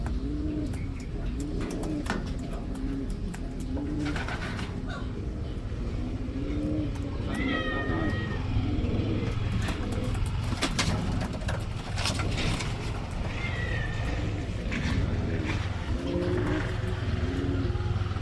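Pigeons coo repeatedly in soft, rolling phrases during vitamin feeding, set against a steady background hum with faint traffic and occasional voices.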